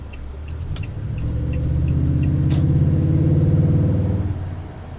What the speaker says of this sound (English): the truck is a little bit louder because you can really hear that that intake